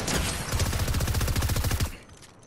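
Loud, dense gunfire in the video game Fortnite, a rapid run of close shots for about two seconds before cutting off into quiet.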